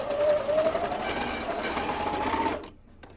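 Sewing machine stitching elastic for a velvet scrunchie, a steady rapid whir of needle strokes running for about two and a half seconds before stopping abruptly, loud and close with no talking.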